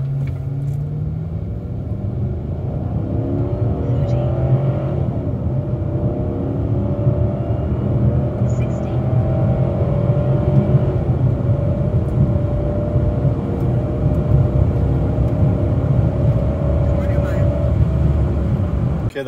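A Chrysler 300C with a 5.7L HEMI V8 running on E85 fuel holds a loud, steady low engine rumble and drone for a power-brake launch, the tone holding fairly constant rather than climbing sharply throughout.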